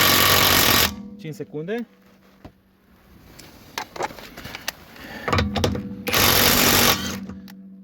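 An Ingco 500Nm cordless impact wrench tightening a bolt gives two loud, rapid rattling bursts of about a second each, one at the start and one near the end. Someone speaks in the quieter gap between them.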